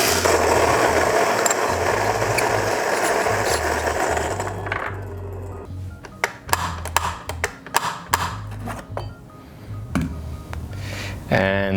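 Home filter coffee grinder running loud on beans for about four seconds, then a run of sharp mechanical clicks and knocks as it spins down and is handled.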